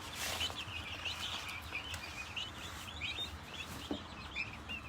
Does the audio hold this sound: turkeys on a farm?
yes